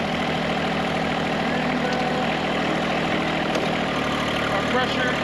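Engine idling with a hydraulic system running, hydraulic oil warmed to about 125 degrees, a steady low rumble and hum throughout with a faint voice underneath.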